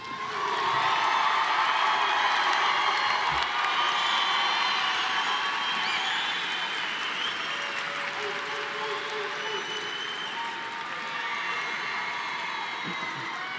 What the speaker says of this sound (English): Please join me in another round of applause for all of our graduates